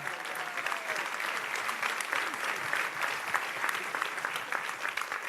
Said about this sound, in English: So let's give them both a round of applause.